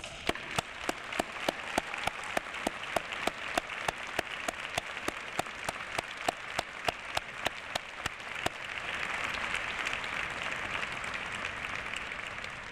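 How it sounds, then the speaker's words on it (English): A university fall convocation audience applauds at a graduation ceremony. Faint, regular claps repeat at a steady beat, then swell into dense, continuous applause that sounds distant and soft. "Graduates, please join me in applauding the support that they have given you over the years."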